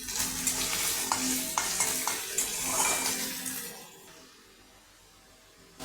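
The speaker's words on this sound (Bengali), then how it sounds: "পেঁয়াজ লঙ্কা আদা আমি কি সুন্দর মশলাটা ভেজে নিয়েছি লাল লাল করে।" Spice paste of onion, chili, ginger and garlic fries in a pan for lotte fish curry, with a steady sizzle and a few sharp stirring clinks before the sizzle suddenly drops away, with no talk.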